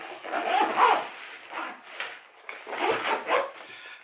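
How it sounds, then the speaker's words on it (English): Zipper closing up a medical kit bag after it is repacked: a few uneven rasping pulls, close and moderately loud, with no talk. "Zip it all up and look"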